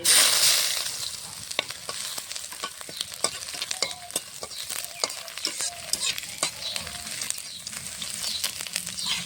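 Ground ginger paste hits a hot tempering for dal with bitter gourd, giving a steady close sizzle. Frequent sharp clicks and scrapes of stirring run through it, and no voices are heard.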